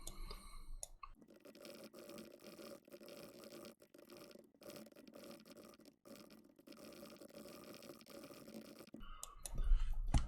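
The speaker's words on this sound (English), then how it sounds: "So I'll just quickly type up an answer for this question." Computer keyboard typing runs steadily for several seconds as a continuous patter of quiet, soft key clicks, faint and close, with no talk.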